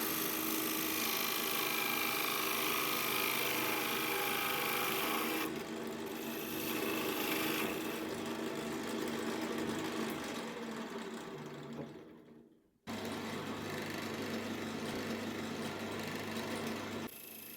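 Wood turning on a lathe with a gouge peeling shavings from scrap wood gives a steady, loud whirring hum with continuous scraping, which briefly cuts out and then resumes.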